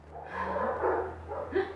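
Several dogs bark and yip in a steady cluster, fairly close, the barks overlapping in a continuous noisy stretch.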